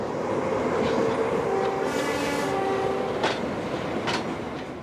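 A Baldwin 040 DA steam-era freight locomotive passes on a quadruple-track main line, a steady rolling rumble with clickety-clack wheel beats, metallic squeals and a few sharp rail clanks, fairly close and alone.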